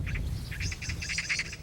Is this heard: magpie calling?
yes